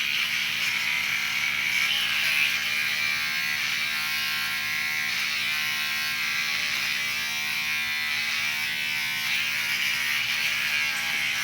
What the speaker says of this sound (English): these are Oster brand clippers, the Artisan Osters